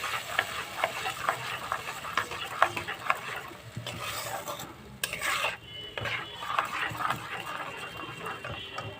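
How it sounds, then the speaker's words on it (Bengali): Mustard spice paste for a fish curry is stirred in a pan, with a utensil repeatedly scraping and clinking against the metal in a steady rhythm. A brief quieter gap interrupts the stirring midway. It sounds close and moderately loud, with no talking. "মশলাটা একটু কষিয়ে নিই সর্ষে দিয়ে একটু নেড়ে চেড়ে নিয়েছি"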